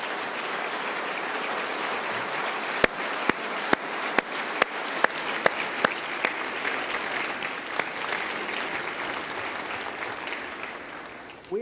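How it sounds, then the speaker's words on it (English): An audience in a legislative gallery applauds during a State of the State address. The clapping is steady and fairly distant, with a few sharp louder claps, and fades slowly toward the end. "Tina is with us today in the gallery, and let's give her and John a round of applause."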